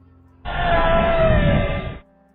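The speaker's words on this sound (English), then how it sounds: "the creepiest part about the footage is the girl's scream" A girl's single loud, strained scream lasting about a second and a half cuts in sharply, then stops abruptly, leaving quiet background.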